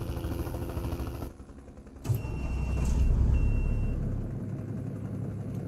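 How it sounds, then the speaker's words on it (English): Truck engine in American Truck Simulator, starting from a steady idle. The engine cuts briefly, then starts with a sharp onset and settles into a low, rising rumble that holds steady to the end. "we're going to climb into this beast of a truck and get our butts on the road"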